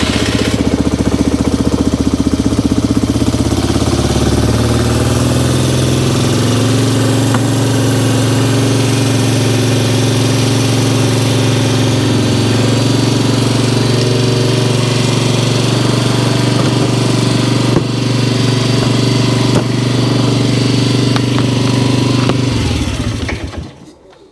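A Polaris Sportsman 300 ATV engine runs loud and steady on choke, a close, throbbing idle that holds for most of the stretch before cutting out abruptly near the end.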